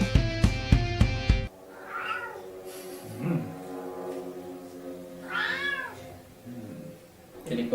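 A cat meows several times, drawn-out and wavering, over a steady low droning hum. The clip begins with a few loud rhythmic thumps.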